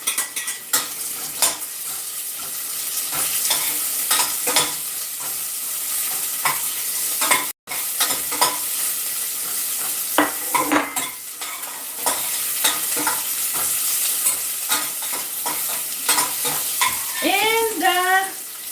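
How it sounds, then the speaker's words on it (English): Garlic and onion sauté in a pan on a steady loud sizzle, with frequent scraping and clinking of a utensil stirring against the metal throughout and a brief break midway. "We're just sauteing the garlic now, guys."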